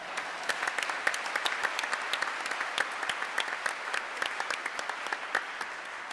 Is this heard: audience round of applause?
yes